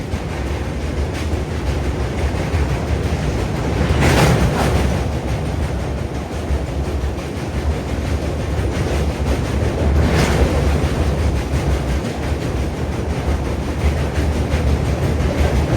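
A train crosses the Kovvur road-cum-railway bridge over the Godavari, heard from on board as a steady, loud rumble of wheels and carriages. Rushing wind builds in two brief swells, and no voices are heard.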